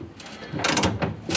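A ratchet working a rusted bumper bolt loose on a 1971 Dodge Challenger, quick bursts of clicking and creaking strokes close by, uneven and mechanical.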